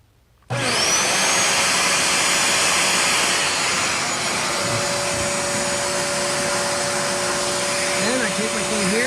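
A Bissell SpotClean Professional portable carpet cleaner switches on abruptly and runs with a loud, steady vacuum-motor whine that holds close and constant for the rest of the clip.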